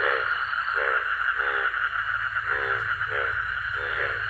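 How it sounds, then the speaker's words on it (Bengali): Frogs croak at a partly dried, rain-filled muddy village pond at night, their calls repeating in a steady rhythm of short pulsing bursts about every half second over a constant insect-like hiss. "শুধু ব্যাঙের ডাক ছাড়া।"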